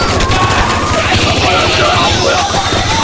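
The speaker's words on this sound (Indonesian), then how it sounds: "Mereka berusaha menembak bolanya di ruangan yang gelap." Gunfire inside a dark house as shooters fire at balls, a dense, loud, continuous volley of rapid shots lasting about three seconds with no pauses.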